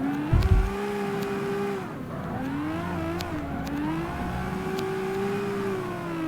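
A car drifting in CarX Street, a 32R street-racing game: a steady, loud engine whine with pitch rising and falling as it revs through the slide, opened by a short low thump, with no talk.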